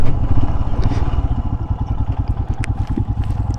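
Royal Enfield Himalayan motorcycle engine on a muddy dirt road, a loud, steady low thumping pulse running throughout with some clatter on top.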